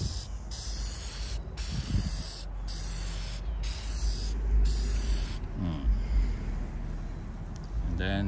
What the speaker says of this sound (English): When you spray for the first coat, just only light spray.